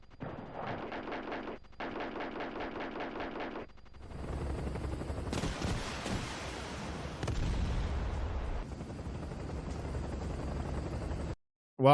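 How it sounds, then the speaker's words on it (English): Explosions and rumbling blasts in a video game, with loud booms and crackling debris over several seconds after an earlier stretch of rhythmic game sounds, then a sudden cutoff. "Wow, it exploded here."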